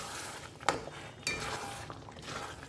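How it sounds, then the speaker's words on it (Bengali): Mutton kosha being stirred in a pan with splashes of its boiling stock: a steady soft sizzle broken by two sharp clinks of a spoon against the metal, close and clear, with no talking. "মাংস সিদ্ধের জলটা দিয়ে দিয়ে একটু একটু করে আমি কষিয়ে নেব"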